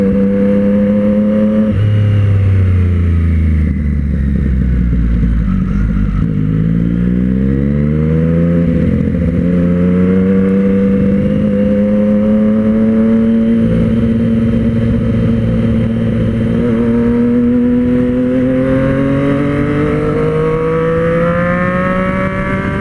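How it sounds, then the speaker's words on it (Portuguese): A Yamaha XJ6 with a street exhaust revs hard, its pitch climbing fast, dropping and climbing again in loud, close sweeps before settling into a sustained high drone. "você dá uma acelerada, ela sobe o giro muito rápido"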